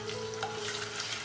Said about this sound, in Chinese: 接着我们来起锅热油，把香菇跟姜片爆香